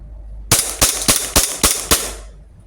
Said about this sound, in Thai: ทดสอบยิงให้หมดแม็กเลยนะครับ